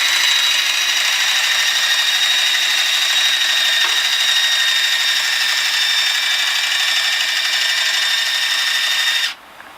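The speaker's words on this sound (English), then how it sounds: "now I'm ready to use the drill to raise and lower the keg" A power drill drives a keg lift up and down, a loud steady high-pitched whine running continuously for several seconds before cutting off abruptly at the end.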